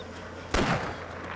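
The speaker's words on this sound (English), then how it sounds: "let's see what your shotgun does over at distance" A shotgun fired at a rabbit in the DayZ video game: one close, heavy blast with a short rolling tail, then a fainter sharp sound just before the end.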